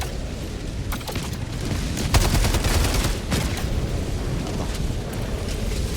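Autocannon and small-arms fire in a shooter video game against Automaton enemies, a continuous barrage of heavy booming shots and rapid gunfire, loud and dense throughout.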